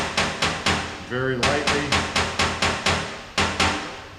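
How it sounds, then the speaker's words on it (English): Hammer tapping a dented auto body panel against a dolly, a dozen or so sharp metallic taps in a steady rhythm, close and ringing, with a brief spoken remark between them. "Hammer on that."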